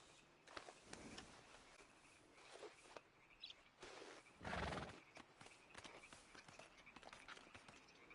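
In the video game Red Dead Redemption 2, a horse whinnies loudly mid-clip while hooves clip-clop at a walking pace, with faint birdsong in the background.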